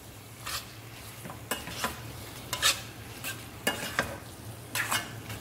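Prawns with curry leaves are stirred in a pan, giving a soft background sizzle broken by repeated scraping, clinking utensil strokes at an uneven rhythm, quiet and nearby with no talking.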